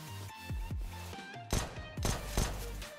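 Gunfire in a shooter video game: a few sharp, punchy shots and short bursts, moderately loud and close, spaced irregularly across a few seconds with game effects between.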